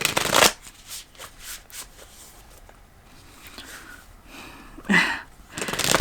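Tarot cards being shuffled up close, several distinct riffling bursts separated by quieter handling and rustling, the last shuffles loud and crisp.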